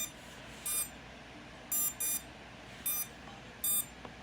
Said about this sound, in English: two motors are beeping